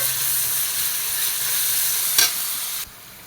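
Onions frying in oil with cinnamon, cloves and fennel in a pan for mushroom dal, a steady loud sizzle with a brief stirring scrape near the end before the hiss drops off.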